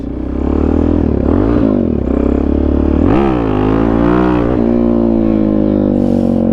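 A stunted Suzuki DRZ dirt bike engine revving loud and close, its pitch sweeping up and down through several gears in rising and falling surges.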